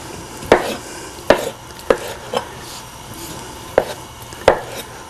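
A knife chops potatoes on a cutting board in six sharp, close knocks at uneven intervals, with quiet pauses between them while chowder is being prepared.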